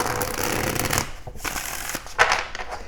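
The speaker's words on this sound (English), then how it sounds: "Let's go and get a shuffle in here for you Pisces." Tarot and oracle cards are shuffled by hand in a close, crisp riffling burst, then a pause and a few shorter flutters and taps of the deck being squared.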